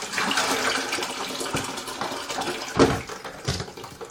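Tap water runs steadily while broccoli is washed, with a continuous splashing gush and a few brief clatters.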